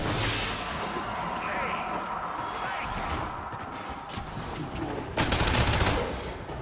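Continuous gunfire in the video game Warframe, a steady rattling stream of shots under a dense background, swelling into a louder burst near the end.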